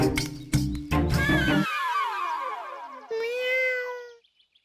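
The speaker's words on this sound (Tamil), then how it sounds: "பூனை சத்தம் கேக்குதே, நம்ம வீட்டுல பூனையே இல்லையே." A cat meows several times in a row, a loud drawn-out cry rising and falling, starting over sharp clattering thumps and ending with a clear sustained call that fades out alone.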